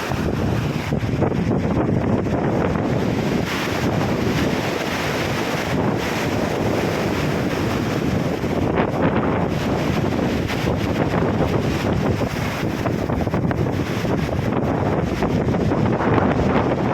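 Strong wind on a beach after a typhoon in Daram, Samar, roars continuously into the microphone, buffeting loudly with a rushing, surf-like texture and no voices.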